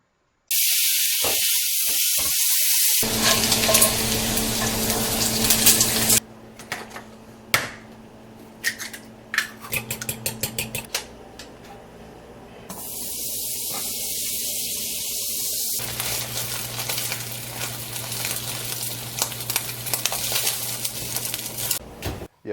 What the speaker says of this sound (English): Cut the bacon into 1-inch pieces before frying